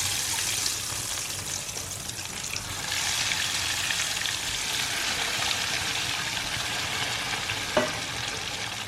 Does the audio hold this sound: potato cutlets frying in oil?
yes